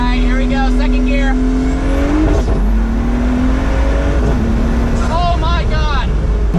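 A Pagani Huayra Roadster BC pulls hard in second gear, its engine climbing loudly in pitch, briefly dipping at a shift, then surging again amid heavy wind and road roar.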